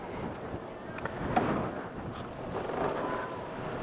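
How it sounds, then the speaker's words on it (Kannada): Heavy wind gusts at a hilltop windmill viewpoint in Savalanga, Shimoga, with a steady broadband roar of air buffeting the microphone throughout and faint voices underneath. "ಬಾಬಾ ಹೆವಿ ಗಾಳಿ ಇದೆ ಇಲ್ಲಿ, ವಿಂಡ್ ಬ್ಲಾಸ್ಟ್ ಹೆವಿ ಇದೆ ನೋಡಿ"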